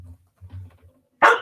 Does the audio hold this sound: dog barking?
yes